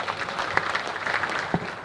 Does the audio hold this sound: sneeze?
no